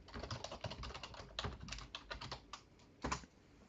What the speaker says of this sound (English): let me just type it correctly